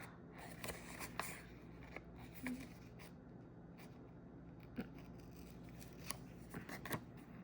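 Crisp snips and rustling as paper is cut with scissors, irregular and close, over a low steady background hum.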